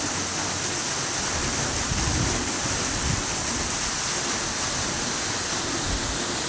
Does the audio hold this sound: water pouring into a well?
yes